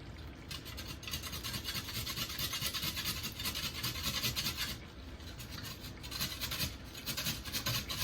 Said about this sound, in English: we're gonna grate